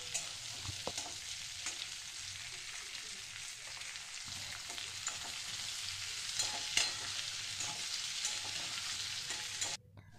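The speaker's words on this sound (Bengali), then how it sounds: "আদা আর রসুন দিয়ে এবার এগুলোকে ভালো করে একটু ভেজে নেব।" Onions sizzle and fry steadily in a pan with ginger, garlic and dried chillies, a dense close crackle with occasional stirring clicks throughout, cutting off abruptly near the end.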